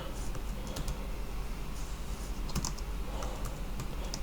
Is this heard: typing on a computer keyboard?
yes